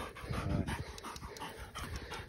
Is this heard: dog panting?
yes